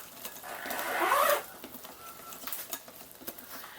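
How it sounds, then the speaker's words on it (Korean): Pancake batter being gently stirred after baking powder is added: a short burst of close scraping and swishing in a bowl, then quieter scattered clinks and taps. "그리고 베이킹 파우더를 넣은 다음에는 살살 저어주세요."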